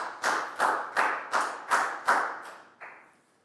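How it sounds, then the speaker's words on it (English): A classroom round of applause during a Year 4 maths lesson, heard as about seven sharp, evenly spaced claps that end in a softer final one, close and alone without talk. "High five and a big round of applause for Net, please, guys."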